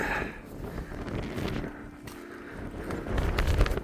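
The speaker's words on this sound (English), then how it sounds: "That wind was a bit strong, slightly less at the summit." Strong wind buffets the microphone on the summit of Stob Coire Easain near Fort William, Scotland, a loud gusty rumble that swells and eases, with no talk over it.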